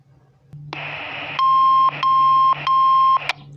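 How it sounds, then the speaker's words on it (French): Three clean, loud electronic tones sound in an even rhythm from an ALAN HP108 handheld radio during a relay test, each steady and separated by short gaps, following a brief hiss of radio static at the start. "Voici les 3 bits de retour validant mon test."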